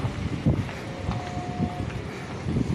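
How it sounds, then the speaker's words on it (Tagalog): Gusty wind buffets the microphone in uneven low rumbles, with a faint steady tone passing in the background. "sobrang hangin"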